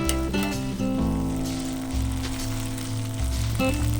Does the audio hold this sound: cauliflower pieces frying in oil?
yes